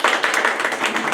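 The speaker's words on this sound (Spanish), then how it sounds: "Y un aplauso démosle" Audience applause at a talk on sex education and digital violence, a dense, steady patter of many hands clapping, fairly close and sustained through the whole moment with no pauses.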